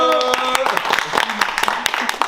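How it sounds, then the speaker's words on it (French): Loud clapping from a film crew and cast on a set, with close, irregular hand claps layered over talking voices and a tonal hum. "J'aimerais un tonnerre d'applaudissements pour Laurent Graziano s'il vous plaît"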